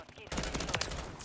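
Rapid full-auto M16 fire in a video game, a dense burst of shots starting abruptly and continuing steadily at close range.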